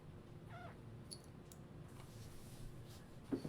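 A house cat gives a faint, thin meow in a quiet room, followed later by a brief louder vocal burst near the end, over low background hum.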